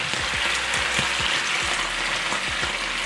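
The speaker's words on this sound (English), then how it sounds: "So now we add our white wine." White wine hits a hot pan and sizzles steadily and loudly up close, with repeated light scraping clicks from stirring throughout and no voices.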